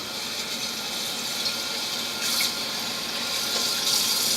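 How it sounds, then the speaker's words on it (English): Hot water runs steadily from a kitchen sink tap over a cloth, a continuous close hiss and splatter with slight shifts as the cloth is moved under the stream. "I'm going to run it under hot water."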